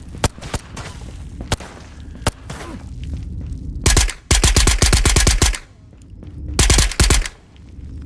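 Unsilenced scav gunfire in the Ghosts of Tabor VR shooter: scattered sharp single shots, then two loud rapid bursts of automatic fire, each several shots long, with quieter gaps between.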